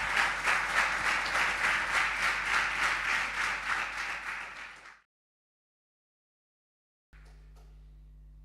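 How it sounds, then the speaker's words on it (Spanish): A congregation at a church service breaks into loud, sustained applause for about five seconds, then it cuts abruptly to silence before faint room noise returns. "le enviamos este hermoso y fuerte aplauso"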